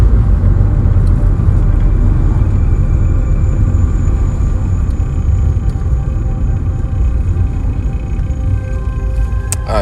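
A car driving along a street, heard as a loud, continuous low road and engine rumble from inside the vehicle, with no talk over it.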